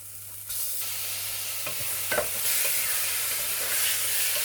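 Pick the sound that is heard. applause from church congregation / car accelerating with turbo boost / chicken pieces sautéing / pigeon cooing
chicken pieces sautéing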